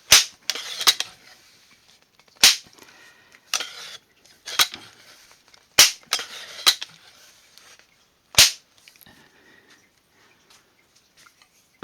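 A classic Crosman 140 air rifle fires light 14-grain Meister Kugel wadcutter pellets over a bench: several sharp, separate cracks with quiet gaps between them, each shot followed by faint clicks and handling noise.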